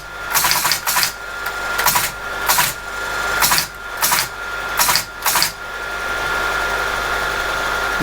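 An ASR33 Teletype printer chatters out characters after a key press: about eight quick, loud clattering bursts in an uneven rhythm over five seconds. A steady mechanical motor hum carries on alone afterward, with no talking.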